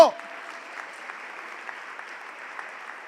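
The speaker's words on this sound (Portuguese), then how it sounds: "Vamos aplaudir a Ele por isso." A church congregation applauds in a steady, fairly quiet patter of many hands that fills the whole stretch after a brief louder sound at the start.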